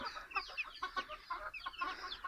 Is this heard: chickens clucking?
yes